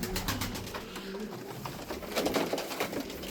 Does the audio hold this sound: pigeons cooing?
yes